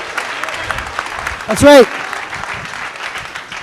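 Audience clapping and cheering at a startup pitch night investment summit, a continuous patter of applause with a brief louder swell as someone speaks over it.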